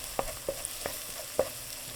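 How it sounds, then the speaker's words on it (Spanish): Onion and garlic fry in a pan with a faint, steady sizzle. A few sharp taps from stirring break through at irregular intervals, and there are no voices. "Una vez acitronada, incorporamos el ajo y freímos como por 1 o 2 minutos."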